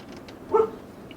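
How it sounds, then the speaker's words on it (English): A single short dog bark sounds at middle distance in the background, one brief yelp over a quiet, low ambient hum. "barking in the background"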